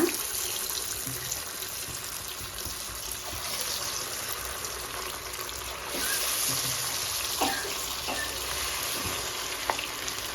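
Chicken lollipops frying in hot oil give a steady, moderately loud sizzle with occasional pops and stirring clicks, with no talking over it.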